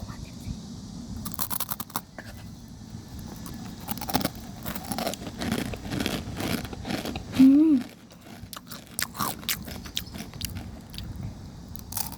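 A crunchy noodle snack is bitten and crushed up close, with loud, irregular crackling crunches spread throughout and a brief vocal sound partway through.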